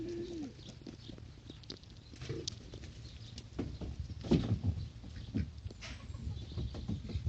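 Pigeons cooing in a home bird room, with low rhythmic coos repeating under a busy, fairly steady background of other bird calls and flutters, moderately close.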